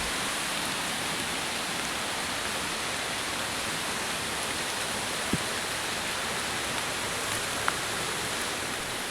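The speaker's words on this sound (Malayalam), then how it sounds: "അതിശക്തമായിട്ടുള്ള മഴയാണ് പുറത്ത് പെയ്തുകൊണ്ടിരിക്കുന്നത്." Very heavy rain falls outdoors in the wild, heard from shelter beneath a rock. It makes a dense, continuous roar with a few faint isolated drips.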